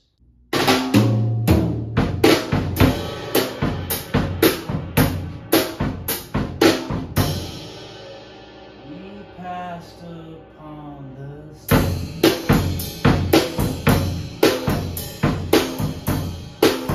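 A drum kit plays a driving Latin rock beat on the ride with sharp cymbal hits and snare, breaks into a looser fill in the middle, then resumes the steady pattern.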